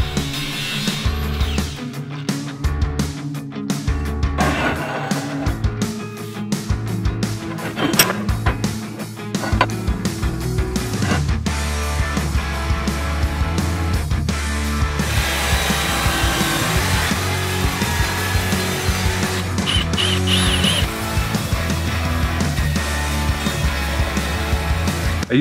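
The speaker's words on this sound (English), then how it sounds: "With a flat sandpaper disc, I chamfer some of the sides." An angle grinder fitted with a flat sandpaper disc chamfers the edges of a flat metal strip, giving a loud, continuous whining grind with rough scraping texture that persists throughout with small fluctuations.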